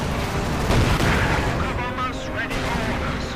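Mortar and artillery fire rings out in a Company of Heroes 2 battle, heavy booms and crackling shots sounding close and loud over a dense rumble of combat, with a voice talking underneath.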